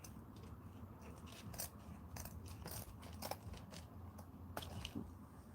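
Scissors snipping through material for a ponytail hat, a quick series of close, crisp cuts at an irregular pace, with no talking.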